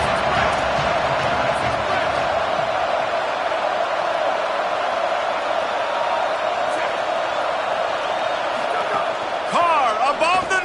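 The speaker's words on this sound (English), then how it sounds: "Decibels rising as the crowd gets behind this defense on third down." A stadium crowd roars continuously in the background of a college football video game, a broad steady wash of cheering with a few louder swells near the end on third down, under commentary.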